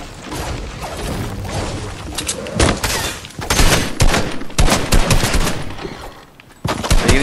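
Rapid gunfire in the video game Fortnite, loud and dense, with sustained automatic bursts and sharp shots that break off briefly and then resume, no talk over it.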